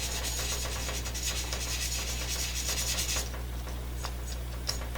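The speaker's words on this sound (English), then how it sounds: "we want to just pick a spot randomly with our sandpaper and just sand on it" Sandpaper rubs back and forth over the painted metal body of an AMC Rebel diecast model car, producing a steady, close scratchy rasp that eases off toward the end.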